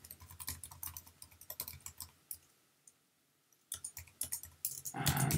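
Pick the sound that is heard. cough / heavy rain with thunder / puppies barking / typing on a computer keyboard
typing on a computer keyboard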